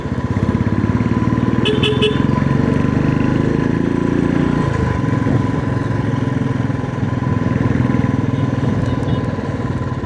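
An old motorcycle engine blowing white smoke runs with a steady, loud, close throbbing putter that holds through the whole stretch, with a brief horn-like beep early on and a slight drop in engine pitch midway.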